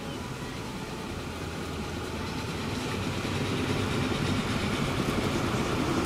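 A Big Boy 4-8-8-4 oil train runs in the Transport Fever video game, a steady low engine rumble that swells slightly, alone with no talk.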